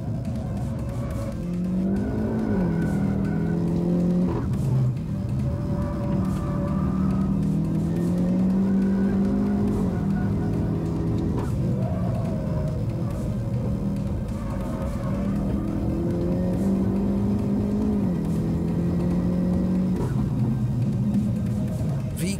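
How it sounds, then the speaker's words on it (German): A tuned Hyundai i30 N making about 450 horsepower lapping a race track, its engine loud and continuous, climbing through gears with repeated rises in pitch, shift breaks and brief tire squeal in corners. "In ungefähr 5 Sekunden schießt der getunte Hyundai auf 100 km/h."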